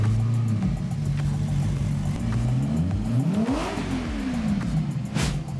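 A Lazareth LMV 496 flying motorcycle engine revs loudly, its pitch sweeping up and down in repeated rising and falling waves over a constant whirring roar.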